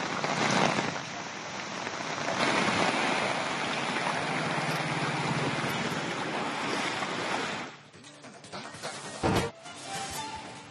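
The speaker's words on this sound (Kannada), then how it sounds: "ರಾಜ್ಯದಲ್ಲಿ ಮುಂಗಾರು ಮಳೆಯ ಅಬ್ಬರ ಜೋರಾಗಿದೆ" Heavy monsoon rain and strong wind lash Karwar, making a loud, dense, rushing roar for about eight seconds before it drops to quieter patter with a few brief thumps and gusts.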